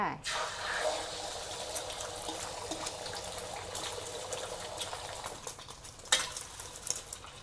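Beaten egg fries in hot oil over medium heat for a Thai omelette with dried chili and basil, making a steady, dense sizzle up close with occasional crackles and a brief louder spatter.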